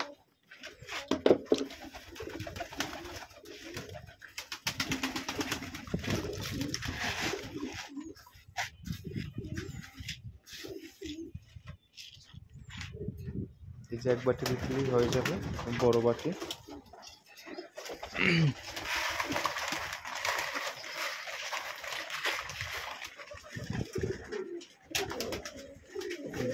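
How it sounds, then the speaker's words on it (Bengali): Pigeons coo in a loft during morning feeding, with soft repeated calls running through steady nearby talk and the clatter of feeding. "সব কবুতর আসতেছে এক এক করে।"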